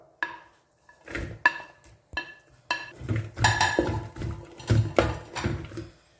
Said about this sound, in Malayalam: ചെറിയ ഉള്ളിയും ചേർത്ത് നന്നായിട്ടൊന്ന് വഴറ്റിയെടുക്കാം